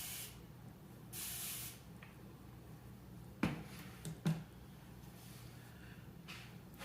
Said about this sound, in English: we're gonna go ahead and spray some water.